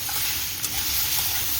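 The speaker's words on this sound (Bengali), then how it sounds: "এই দেখো আলুটা খুব সুন্দর করে মশমশে করে ভাজা" Potatoes frying crisp in hot oil give a steady, dense sizzle with faint stirring scrapes, loud and close, with no voices.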